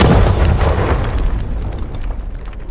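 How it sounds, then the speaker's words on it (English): A large debris explosion goes off with a loud, rumbling boom that fills the low end, then holds as a dense, gradually fading roar of scattered crackle across the whole clip. "Like the debris large explosion sound is in there, I think, a few times."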